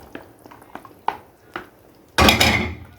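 Black-eyed beans tumble into a pot of tomato sauce in one loud, dense pour, following several light clinks of a utensil against the pot; no one speaks.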